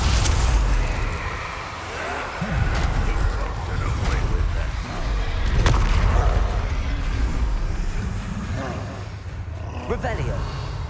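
Bombarda explosion spell cast in the Hogwarts Legacy video game: a few heavy booming blasts over a dense, rumbling game soundscape, with voices present throughout.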